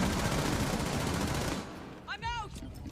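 Rapid, dense gunfire rattling in Rainbow Six Siege during an esports match, a sustained burst that cuts off abruptly, followed by a brief voice.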